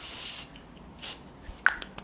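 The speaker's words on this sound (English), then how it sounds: "Like literally just sprayed straight in my ear rather than on my hair." An aerosol can of hairspray lets out a short hissing spray at the start and a second brief burst about a second later. Faint handling clicks follow, all close to the listener with no talk.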